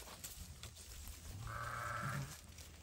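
Lambs from a livestock pen, with one clear bleat rising in the middle over steady outdoor background noise.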